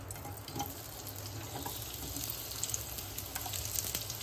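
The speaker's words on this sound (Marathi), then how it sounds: "पॅन ठेवलाय, तेल टाकते, कांदा टाकते." Chopped onion dropped into hot oil in a pan for misal masala, giving a steady close sizzle and crackle with faint stirring scrapes throughout.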